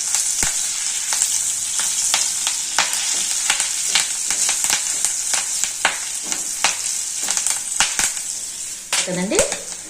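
Onions frying in hot oil with curry leaves added, a steady dense sizzle broken by frequent sharp crackles and pops, with a short stirring scrape near the end.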